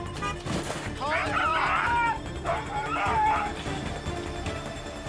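A loose dog in a parking lot barks and whimpers in a few strained, yelping bursts, close and loud, while someone shouts over it.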